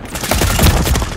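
Call of Duty MW3 Team Deathmatch assault rifle gunfire, a loud, close, continuous rapid burst of shots with a dense rattling rhythm throughout.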